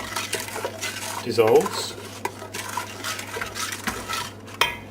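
Flapjack mixture stirred in a pan with a metal spoon, giving steady scraping and clinking of utensil against metal, loudest in one brief burst partway through, with a sharp knock near the end.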